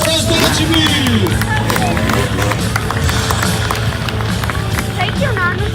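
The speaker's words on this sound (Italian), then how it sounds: "diamoglielo questo applauso per Alberto Prozocimi" Crowd at a freestyle motocross show at a biker festival clapping and cheering in a dense, continuous wash of applause, with an announcer talking over it through a loudspeaker.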